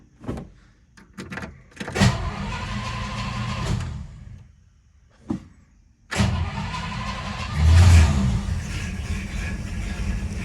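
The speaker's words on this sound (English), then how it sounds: "let's see how we do for a cold start here" A carbureted car engine cranks and fires on a cold start, with short bursts of cranking followed by the motor catching and running loud and rough, revving up near the end, no voices over it.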